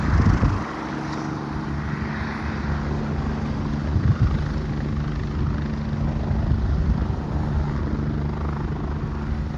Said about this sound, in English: I have no clue what the helicopter is doing over here.